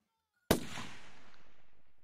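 A single sharp gunshot in the RimWorld video game, a sudden loud crack followed by a long fading rumbling tail, alone against silence.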